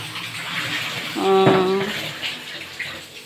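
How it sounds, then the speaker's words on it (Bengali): Rohu fish being washed under running water in a home kitchen makes a steady splash and gush of tap water, with a brief voice partway through. "রুই মাছ ধুয়ে পরিষ্কার করে নিচ্ছি"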